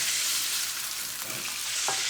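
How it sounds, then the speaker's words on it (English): Beef thrown into a hot pan with rendered pancetta, a close steady sizzle with a few soft stirring clatters near the end, no voices. "And now I'm just gonna throw in all my beef right into the pan."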